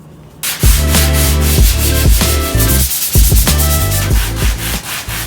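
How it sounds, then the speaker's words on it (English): A car hood is hand sanded with a sponge block and 80 grit sandpaper, giving loud, close, rhythmic rasping strokes in rapid back-and-forth succession with only brief pauses. "we're gonna be using this little sponge thing with 80 grit sandpaper, and we're gonna sand it down"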